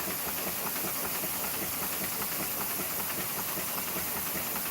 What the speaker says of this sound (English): We seem to have plenty of steam tonight.